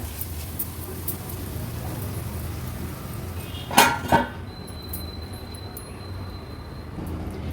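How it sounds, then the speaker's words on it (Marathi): A lid is set on a cooking pot of tomatoes and ground masala paste for an Agri Koli-style clam pulao, giving two quick metallic clinks midway through a quiet kitchen hum. "झाकण ठेवते मी आता ह्याच्यावर"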